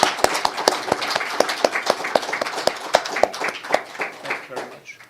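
An audience gives a round of applause after an ambassador's presentation, with sharp, distinct individual claps in an uneven rhythm, moderately close, and some voices underneath.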